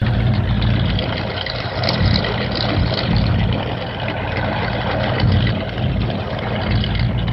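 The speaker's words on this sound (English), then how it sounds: "You want to hear your new car?" A new Dodge Charger's engine runs at a steady, loud, low rumble, holding a constant drone with slight swells and no pauses throughout.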